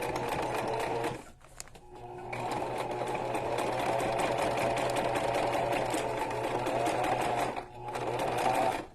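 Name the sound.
sewing machine stitching fabric with bulky ribbon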